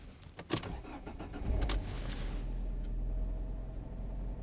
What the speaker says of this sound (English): Let's see whether the car starts.